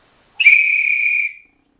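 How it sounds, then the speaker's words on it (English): A single sharp referee whistle blast, harsh and loud, held for about a second in isolation before cutting off, the kind blown for a penalty kick late in a tournament soccer game. "your whistle blast might sound kind of harsh"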